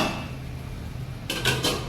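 An oiled metal plate of potato dhokla batter is set into a steamer over boiling water; a steady hiss gives way to a few sharp, close metallic clinks.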